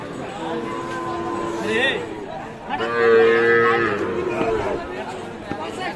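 Cows, including Sahiwal bulls and calves, moo loudly nearby at a cattle market, long low calls rising over a busy crowd of chattering voices and people talking.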